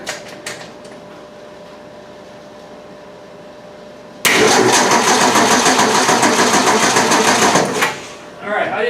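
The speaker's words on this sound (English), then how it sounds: "I'm going to crank the motor for a second and see what comes out" 1965 Ford Mustang engine cranking over with a fast, rhythmic mechanical chatter for about four seconds, loud and close, after a quieter stretch of shop background.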